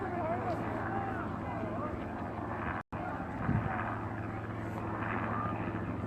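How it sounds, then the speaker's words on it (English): A steady low engine drone and rotor rumble from a helicopter overhead at a Standing Rock protest, continuous throughout, with faint outdoor noise and a brief dropout midway. "being videoed above right now by a helicopter."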